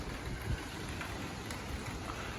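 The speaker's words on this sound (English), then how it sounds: "It's like drizzling." Light drizzle falls outdoors at night as a faint, steady hiss of rain with a few soft drop taps, quiet and continuous with no voices.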